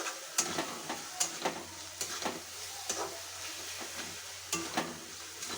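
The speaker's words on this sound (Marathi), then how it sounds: "चांगलं परतून तेल सुटेपर्यंत चांगलं परतून घ्यायचं" Green beans sauté in hot oil with a steady, soft sizzle, punctuated every second or so by sharp clacks of a spoon stirring against the pan, close and clear with no talking.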